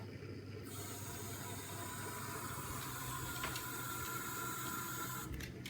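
Lukewarm tap water runs steadily into a bowl for bread dough, a continuous close splashing hiss that stops abruptly near the end.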